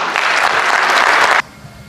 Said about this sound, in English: Please give a round of applause to Mr. Horatio Williams.